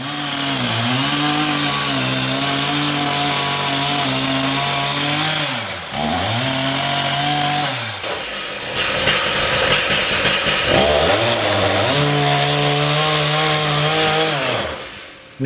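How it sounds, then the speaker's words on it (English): A large chainsaw cuts into solid timber for a two-seater picnic bench, a loud close steady whine that dips in pitch under load, pauses briefly, then bites in again. "help the chainsaw operator get the saw horizontal at the start of the cut"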